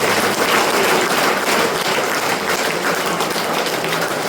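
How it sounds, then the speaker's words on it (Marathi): A church congregation clapping hands together during worship, a steady dense wash of many hands filling the room without pause. "आपण टाळ्या वाजवत"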